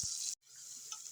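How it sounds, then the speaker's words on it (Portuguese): Meatballs sizzle in a pan over low heat, a close, bright hiss that cuts out for a split second and then resumes steadily. "É só deixar o fogo baixo, que com o próprio líquido da carne, ela já vai cozinhando e fritando ao mesmo tempo"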